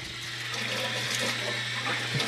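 Water rinsing freshly sanded metal parts of a cooler mount before touch-up paint, a steady hissing, splashing flow throughout at moderate level with a low hum beneath.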